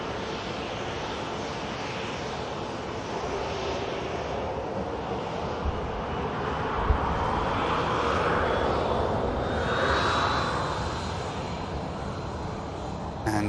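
A Saudi airliner taxis at Manchester Airport, its steady jet engine roar filling the scene with a thin whine that rises and falls above the rumble, plus some wind noise on the microphone.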